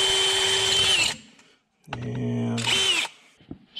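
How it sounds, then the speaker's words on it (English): A power drill bores into a part of a Stihl MS291 chainsaw during a Westcoast Saws kit install. Two close, loud whining bursts are separated by a short pause, with a brief voice in between. "Drill walks a little bit, that's fine."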